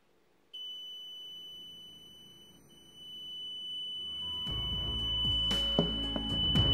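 A homemade smoke and gas detector built on an MQ-2 sensor sounds its alarm as a continuous high electronic beep tone. Fainter clicks and rustling grow louder beneath it toward the end.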